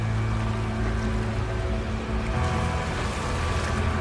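Dynamic ocean waves on a planet in a space video game, a steady broadband wash of surf with wind, loud and continuous throughout with no voices.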